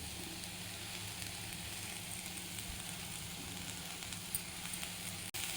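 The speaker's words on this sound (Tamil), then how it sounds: "இப்போ இதையெல்லாம் ஒன்றா வதக்கிடலாம்" Carrot and mixed vegetables with ginger garlic paste sauté in a pan, giving a soft, steady sizzle that continues evenly throughout.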